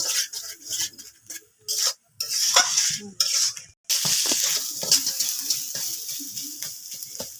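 A spatula scrapes and stirs vegetable stalks frying in a wok in repeated strokes with brief pauses, while a sizzle runs underneath.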